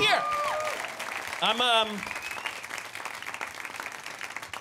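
Applause from the audience at a Chicago stand-up comedy show, dense clapping and cheering running steadily behind the comic's voice and a sung or whooped phrase near the start.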